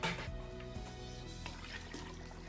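Water poured into a bucket for a large batch of hot process soap, a steady liquid splash and trickle running throughout with soft gurgles and drips, close by and moderately quiet.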